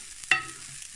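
Leftover rice stir-fried in reused oil from frying fish, a single close clack of a utensil against the pan over a faint, steady sizzle, with no talking.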